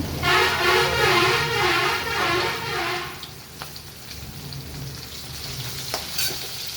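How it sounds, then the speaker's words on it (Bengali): Bata fish frying in a pan for a Bengali fish curry gives a loud, close, crackling sizzle that eases to a quieter bubbling hiss with occasional clicks and pops. "প্রথমে মাছগুলোকে ভেজে নিলাম"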